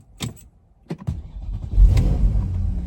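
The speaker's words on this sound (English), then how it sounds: "Let's start it up." A 2009 Porsche Panamera 4S 4.8 V8 with sports exhaust cranks with a few sharp clicks, then catches and settles into a deep, rumbling idle that stays steady and fairly loud.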